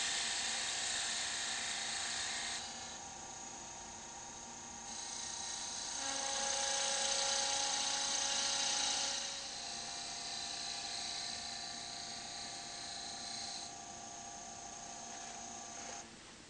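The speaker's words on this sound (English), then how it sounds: "Turn the base from the outside diameter to flow into the last cove using the spindle gouge." A wood lathe spins a workpiece while a spindle gouge shapes the base into a cove, giving a high whine and whirring tone that rises and falls in strength as the cut changes, close and without talk.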